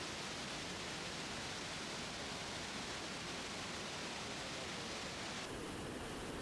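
Iguazu Falls thunders at the Devil's Throat in Argentina, a dense, unbroken roar of falling water that holds constant and loud from start to finish with no voices.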